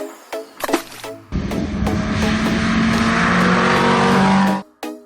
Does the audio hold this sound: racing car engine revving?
yes